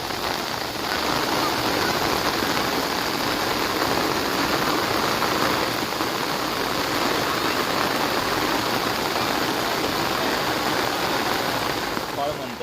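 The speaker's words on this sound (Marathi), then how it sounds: "तसं आता पाऊस चालू आहे हे बघा" Heavy monsoon rain pours over village farmland in a continuous, loud, even hiss with a faint rushing, water-flow quality, while voices murmur faintly beneath the downpour.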